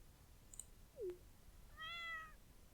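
A cat meows in the Stardew Valley video game: a short, faint high chirp, then a clear falling meow, followed by a longer, brighter meow, all over quiet background hiss.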